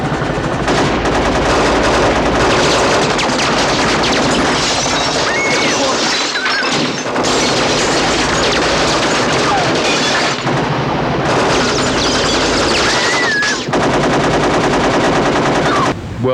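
Thousands of squib bullet-hit charges rip through a trailer on a night action film set, a dense, continuous crackle of rapid gunfire-like bursts and crashes, loud and close, sustained for the whole stretch with brief lulls and no talking.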